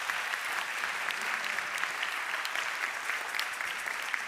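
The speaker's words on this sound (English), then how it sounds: "Please join me, and please give them also a round of applause." Audience at a conference opening session applauding speakers onto the stage, dense steady clapping from a sizable crowd, sustained and even for several seconds.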